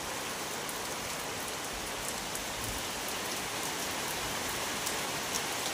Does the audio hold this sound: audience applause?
no